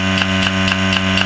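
Motor of a goat milking machine running steadily up close, a loud constant hum with a faint rhythmic pulsing beat about every quarter second from the pump, no talking.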